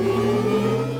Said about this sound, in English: These are elements of the AUDI R8 e-tron sound,